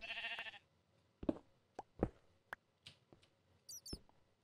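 A sheep in Minecraft gives a short, clear bleat, then a scattering of sparse clicks and light taps in a quiet game scene, with no talking.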